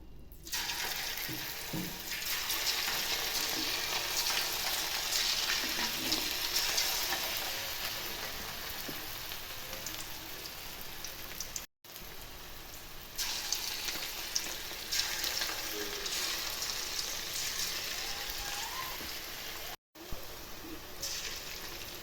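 Punugulu made from sorakaya batter sizzle steadily in hot oil on a stove in a Telangana-style kitchen, a loud, continuous crackling hiss with brief breaks and no talk.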